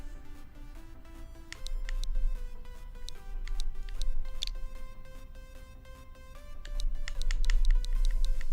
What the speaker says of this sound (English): Typing in redeem codes.